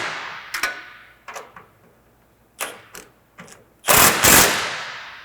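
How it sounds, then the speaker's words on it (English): An impact wrench fastens a cutterbar guard on a MacDon FD2 FlexDraper header, giving several short, sharp bursts spaced apart before a longer, louder final blast, close by with no talk. "Quick little blast with the impact."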